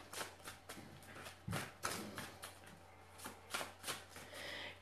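A deck of cards being shuffled during a mediumship evening, a faint run of soft riffling and tapping bursts heard up close in a quiet room.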